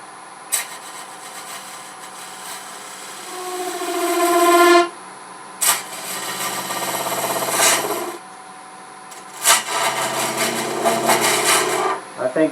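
A woodturning lathe tool with a carbide cutter scrapes and cuts inside the curve of a spinning piece, coming in three loud, close bursts separated by short quieter gaps, with a ringing, rising tone as the cut deepens.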